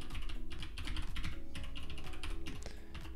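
Quick, close clicking of keys on a computer keyboard as a web address is typed, a dense, continuous run of keystrokes with no talking.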